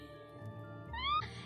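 A cat meows in the Animal Crossing video game over soft background music, a short rising meow near the end, fairly quiet.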